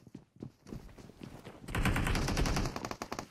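Gunfire in the video game PUBG Mobile, with a few scattered single shots at first and then a sustained loud burst of rapid automatic fire lasting over a second, followed by a few trailing shots.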